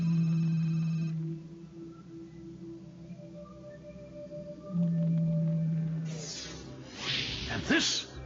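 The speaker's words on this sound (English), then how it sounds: "These are blue whales." Blue whales call underwater, long low droning moans that rise and fall in two drawn-out tones, heard through a hydrophone with faint hiss and a short noisy burst near the end.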